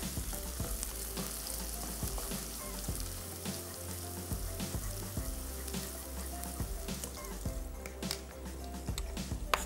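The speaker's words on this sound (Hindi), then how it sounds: "प्याज को भी थोड़ा सा चलाते जाएंगे" Onions fry in a pan with a dense, continuous sizzle. They are stirred throughout, giving repeated scraping and clinking taps over a low steady hiss.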